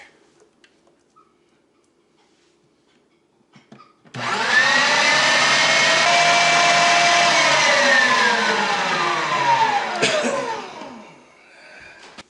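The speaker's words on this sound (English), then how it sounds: "we got it run back through the grinder" An electric meat grinder grinds seasoned venison for breakfast sausage, starting abruptly after near silence, running loud and steady with a whining motor tone that sags in pitch under load for about six seconds, then cutting off.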